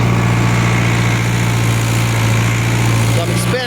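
A big tractor hitched to a chisel plow runs with a loud, steady engine drone and deep vibrating hum close by, unchanging until a brief shift at the end.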